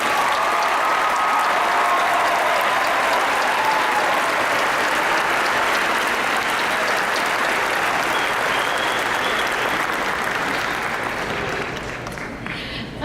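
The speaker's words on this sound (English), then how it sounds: "Please join me in giving them a round of applause." Loud, sustained applause from an audience honoring seniors at a band recognition event, dense steady clapping lasting throughout and tapering slightly at the end.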